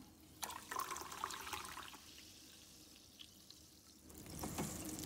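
Hot water poured into flour batter for crispy fried banana fritters makes a faint, steady trickling and splashing stream that swells again near the end, with no talking.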